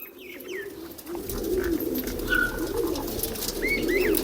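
Pannu-strain pigeons coo loudly and close, a steady rumbling chorus with a few higher chirps and whistles over it.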